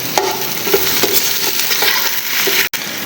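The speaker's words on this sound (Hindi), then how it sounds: "हम इसके अंदर 2 टेबलस्पून लहसुन अदरक का पेस्ट डालेंगे" Ginger garlic paste hisses and crackles in hot oil while a spoon stirs and scrapes the pan every half second or so, loud and close, with one brief dropout near the end.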